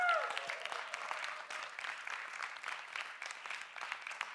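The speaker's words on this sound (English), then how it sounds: "give yourselves a big cheer if you've been here since 11 a.m." Audience at a science festival competition semi-final breaks into applause, a steady patter of many clapping hands with light cheering that starts loud and settles into an even, moderately distant roll.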